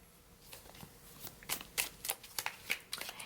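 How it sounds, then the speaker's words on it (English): Playing cards laid out and shuffled, with soft riffles and a series of crisp slaps and flicks close by that grow more distinct in the second half, with no talk. "I'm just going to lay these cards out and see how"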